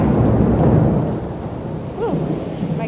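Loud rolling thunder rumbles through a rainstorm, a heavy low roar that slowly fades while steady rain hisses underneath.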